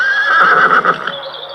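A horse gives a loud, close whinny, a bright, quavering neigh that rises and then trails off over about a second, heard alone in a 1984 storybook recording.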